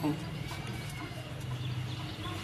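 Pigeons in a loft coo in low soft bursts, close but faint, beneath someone talking steadily over them.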